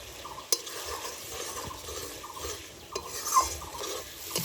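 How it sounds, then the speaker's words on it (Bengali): Chopped tomato being sautéed with prawn masala in a pan for a potol-chingri curry, giving a quiet, steady frying hiss with soft scraping stirs and a couple of light spatula knocks. "এখন দিয়ে দেবো এর মধ্যে কেটে রাখা টমেটো করে টমেটোটা দিয়ে ভালোভাবে কষিয়ে নিই"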